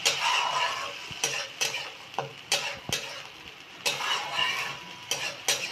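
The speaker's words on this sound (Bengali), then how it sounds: "কাঁচা আদা রসুন আর কাঁচা লঙ্কার পেস্টটা আমি আরেকবার ভালোভাবে ভাজি" Ginger, garlic and green chili paste fries in a pan with a bright sizzle broken by repeated spatula scrapes and clinks against the metal, in an uneven stirring rhythm.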